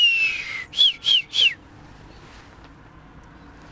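Three short rising whistles from a person, evenly spaced and fairly close, followed by quiet background.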